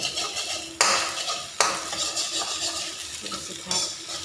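Egg fried rice is stir-fried in a pan, the metal spatula scraping and clanging against it in sharp strokes over a continuous sizzle of oil, close and fairly loud.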